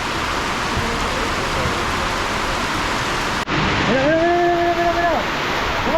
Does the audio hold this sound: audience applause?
no